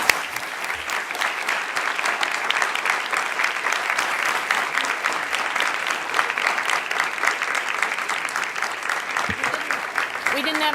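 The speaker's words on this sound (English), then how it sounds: "Let's have another round of applause." An audience applauds at the close of an event about the search for life in the universe, steady crowded clapping at close range lasting the whole stretch without a break.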